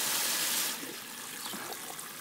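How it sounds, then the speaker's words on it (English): A bell siphon drains water from a tank: a strong gushing rush at first, then a softer, steady trickle and gurgle close by. "we got the bell siphon fixed here"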